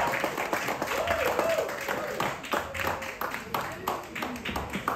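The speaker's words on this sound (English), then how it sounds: "give them one more round of applause." Audience clapping at a talent show in a Moss Side venue, a moderate wash of hands with a few scattered louder claps and some voices mixed in.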